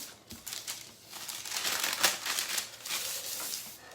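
Paper crinkles and rustles up close in irregular bursts of handling and taping, fairly quiet, with no talking.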